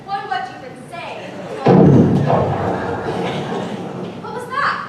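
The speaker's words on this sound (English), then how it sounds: "That was a cannon." Voices speak, then a cannon fires with a loud booming thud that rolls away in a rumbling decay before talk resumes.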